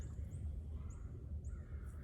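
Faint bird calls sound several times, crow-like caws at a distance, over a steady low rumble of wind and flowing water on a river between covered-bridge country and Gas City in March.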